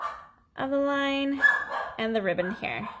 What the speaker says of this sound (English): So we have some dog visitors this weekend, so if you hear any barking